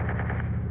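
A short rapid burst of automatic gunfire in a video game, evenly spaced shots that stop abruptly, loud and close.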